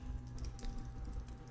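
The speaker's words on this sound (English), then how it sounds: "Hard to type today" Typing on a computer keyboard: a quick run of soft, faint key taps at an uneven pace, heard alone against a low background hum.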